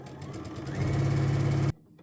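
A sewing machine runs close up stitching quilt pieces with a 1/4 inch foot, a rapid mechanical whirring that speeds up into a steady hum, then stops abruptly, leaving quiet.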